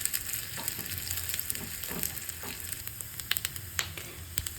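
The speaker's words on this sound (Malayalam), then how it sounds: "എന്നിട്ട് നന്നായിട്ട് ഇളക്കി തേങ്ങാക്കൊത്തും ചെറിയുള്ളിയും ബ്രൗൺ കളർ ആവുന്നത് വരെ" Coconut bits and shallots frying in oil while being stirred, with a steady close sizzle and scattered scraping and clinking of the spoon in the pan, no voices.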